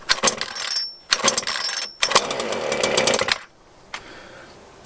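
A Craftsman 42cc S185 18-inch chainsaw is pull-started with the brake on: a few sharp bursts of cranking, then the engine catches briefly and sputters out, close and loud.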